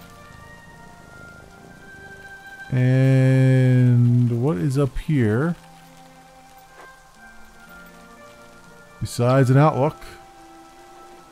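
Rain falls steadily in the video game Yonder: The Cloud Catcher Chronicles, a soft, even hiss running all the way through beneath someone speaking.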